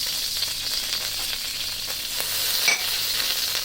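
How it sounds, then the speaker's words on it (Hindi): A spoonful of butter melting in a hot pan that was just used to cook vegetables gives a steady, close, even sizzle and frying hiss with no voices. "अब उसी बर्तन में मैं 1 चम्मच बटर शामिल कर दूंगी"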